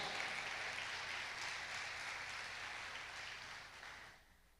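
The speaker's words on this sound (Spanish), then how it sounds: "Dale fuerte ese aplauso a Él." A church congregation applauds loudly and continuously in a large worship space, a dense steady wash of clapping that holds for several seconds and then fades out at the end.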